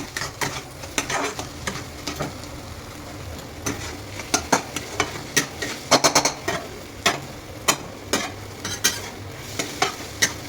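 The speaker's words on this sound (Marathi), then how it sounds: "ते अंडे मिक्स केल्यानंतर अशी काही भुर्जी होते, हलवत राहायचं सतत त्याला।" Egg bhurji, scrambled eggs, cooking in a pan while a utensil stirs it constantly: a soft steady sizzle punctuated by many quick scraping clicks of the spoon against the pan, close up.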